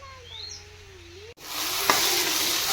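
Cumin, mustard seeds, garlic, coconut and chopped tomatoes fry for a gravy, a steady close hiss of sizzling oil starting abruptly after a quiet room with chirping birds, with one brief clatter partway through.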